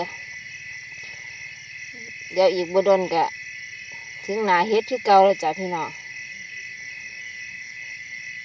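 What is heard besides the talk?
crickets chirping in a vegetable garden at night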